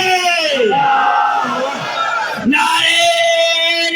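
A large crowd shouts a religious slogan response in unison at a Sufi celebration gathering, a loud, sustained massed roar of many voices that rises, dips, then swells again.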